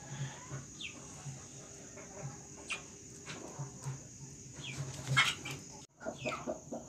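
Brooding hens cluck softly and intermittently nearby while nesting on eggs, short low calls scattered over steady background chirping of insects.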